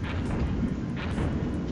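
A spaceship blows up in the space combat game Space Pirates and Zombies, a dense, rumbling low-end roar that fills the whole short moment at steady loudness, with no voices.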